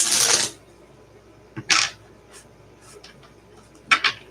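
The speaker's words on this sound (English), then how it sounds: "Just focus your energy on the cards as I shuffle them in front of the camera." A deck of tarot cards shuffled up close during a live tarot reading: a few brisk, papery riffling bursts, loudest at the start, with quiet pauses between and no talking.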